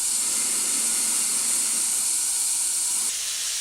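A spray gun lays acrylic 2K paint onto car doors, giving a loud, close, continuous airy hiss that holds steady, then eases slightly near the end; no voices.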